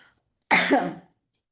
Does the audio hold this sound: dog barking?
no